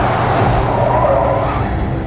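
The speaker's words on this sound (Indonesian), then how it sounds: "kerja keras Terry seketika pupus setelah melihat mobil Kapten Sandy menyalip dan menyuruhnya untuk memperlambat kecepatan" A car overtakes another in a film scene, its engine a loud, steady broadband roar that holds evenly throughout with a faint tire hiss, no voices.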